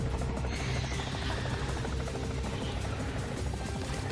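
An attacking helicopter in the video game Palworld drones continuously and loudly, a steady rotor buzz with rapid blade pulsing that fills the whole stretch without a break.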